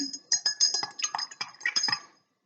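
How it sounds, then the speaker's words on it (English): A spoon clinks rapidly against the sides of a glass of water while stirring in sugar, a quick run of bright, close metallic taps lasting about two seconds, then stopping. "I'm going to stir them for a little bit. Agitation is another way of helping things dissolve."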